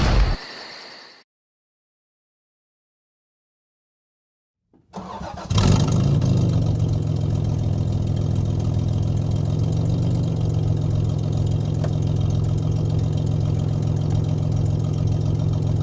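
A car engine with its catalytic converters removed but the muffler still fitted starts after a short silence, then settles into a steady, loud, deep idle that continues unchanged to the end, with no voices.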